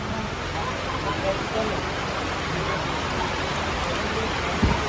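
Steady rain hisses across surfaces during the Ambaji pilgrimage walk, with a dense wash of drops and faint road noise underneath.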